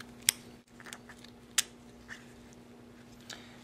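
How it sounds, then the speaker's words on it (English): Scissors snipping through a crayfish shell during a dissection: two sharp, close clicks a second or so apart, followed by fainter small snips over a steady low electrical hum. "I'm going to take my scissors and make those cuts."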